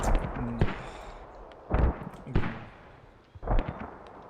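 Mortar rounds fire and land in the Squad video game during a match on the Gorodok map, with several loud, sharp booms spaced about a second apart and debris-like rumble trailing each impact.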